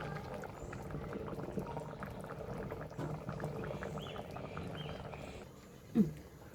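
A pot of dried prawn and vegetable curry bubbles and simmers steadily, with a soft rolling gurgle throughout and a brief louder clunk near the end.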